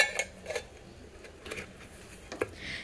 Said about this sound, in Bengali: এবার এটাকে আমি ঢাকনা বন্ধ করে দেবো